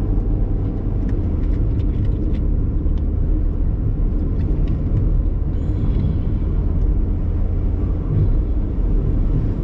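A car drives on a road in Nairobi, a steady loud low rumble of engine and tyre noise filling the whole stretch without pause, with no talking.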